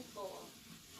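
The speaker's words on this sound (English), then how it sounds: "Give that a good stir." Hot hibachi sauce stirred in a pan, a soft sizzle and watery swish with a brief louder scrape near the start, steady and close throughout.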